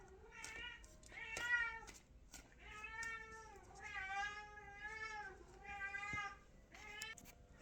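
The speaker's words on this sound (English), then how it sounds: "There's cats yelling in the background." Cats yell and caterwaul in a series of drawn-out, wavering cries, one after another with brief gaps, sounding moderately close and standing alone without speech.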